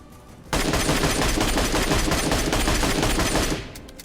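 Sustained rapid gunfire from an MK12 marksman rifle in PUBG Mobile, a loud unbroken burst lasting about three seconds before fading, with no talk.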